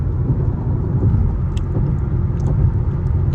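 A car rolls across a bridge with a steady, close low rumble of road and engine noise and a few faint high ticks above it, no talking.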